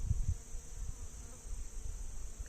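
Honey bees buzz in and around an open hive box where they are building out comb, a steady, fairly faint drone with soft handling bumps and no talk.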